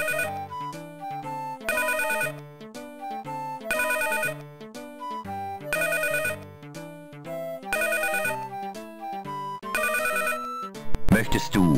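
Electronic phone ringtone from a V.Smile children's racing game, Fred's number rally, repeating as a bright synthesized melody in steady bursts, loud and alone, ending in a short burst of game noise.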